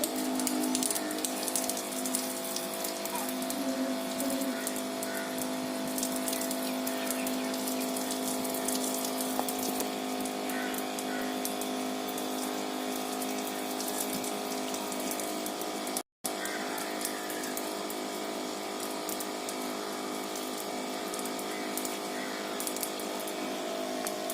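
A mini water pump runs continuously with a steady hum and the sound of flowing, splashing water. It stays at an even level throughout, with one brief dropout partway through.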